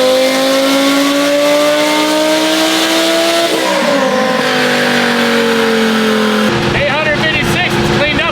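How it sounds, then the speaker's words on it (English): A twin-turbo Lamborghini Sterrato making about 1100 horsepower revs hard on a dyno, a loud, close engine note climbing steadily, then shifting and pulling higher with turbo roar and rasp. "Car is running great, and it's putting down some stupid power."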